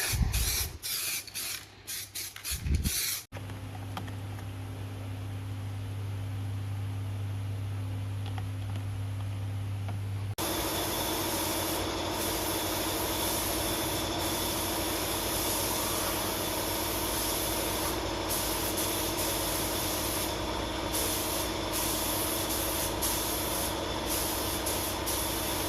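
Spray gun painting panels on a VX Calais LS1 skid car, a steady close hiss that starts partway through and continues unbroken, with a compressor-like drone underneath.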